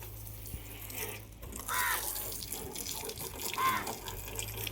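Water sprays steadily while a vehicle is washed, a continuous hissing gush with a couple of louder surges, fairly close.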